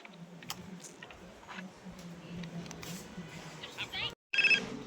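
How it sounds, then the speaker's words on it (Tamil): A phone ringing in the video game GTA 5, its repeating electronic tone sounding over low game ambience and light clicks before a brief silence and a louder final burst. "இப்போ என்னமோ ஃபோன் அடிக்குது நம்மளுக்கு"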